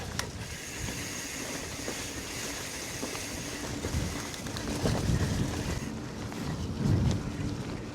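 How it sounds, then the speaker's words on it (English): Cold winter wind batters an exposed ridgeway on the North Wessex Downs, a continuous rough rumble with gusty swells buffeting the microphone, strongest in bursts near the end. "the wind is cold"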